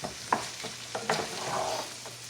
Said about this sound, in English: go ahead and get this started with just sauteing it just a little bit